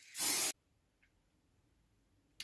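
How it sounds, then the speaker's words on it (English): Aerosol varnish spray applied to routed recycled pine, one short burst of loud hissing spray lasting about half a second, followed by near silence with a faint tap and the start of another burst at the end. "I gave it 3 or 4 coats of the varnish spray"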